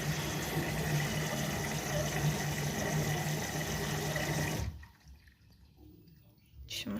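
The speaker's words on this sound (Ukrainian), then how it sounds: "Машинка набрала достатньо дозу води." An LG F2V5GG9T washer-dryer fills with water in a steady, hissing rush that runs for several seconds and then cuts off abruptly, leaving near quiet with a faint sound at the end.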